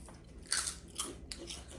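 Crunchy bites into a crispy squid snack, three or four short crisp crunches in quick succession, close and fairly quiet.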